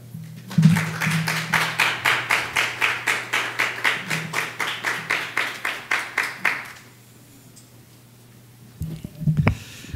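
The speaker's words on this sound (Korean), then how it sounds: "우리 박수로 목사님 맞이하겠습니다" A church congregation welcomes the pastor to the pulpit with about twenty loud, rhythmic claps in unison at a steady beat. Then there is a short hush, and a voice begins speaking.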